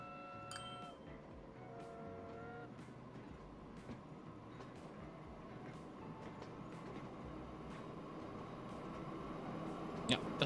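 A train runs along the track in the railway-building game Train Fever, a low steady rumble marked by sharp, regularly spaced wheel clacks, with faint tonal beeps near the start.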